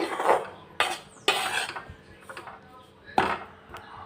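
A utensil stirs chili powder roasting in a pan, giving sharp metallic scrapes and clanks at irregular intervals, close and fairly loud, with quieter scraping between them.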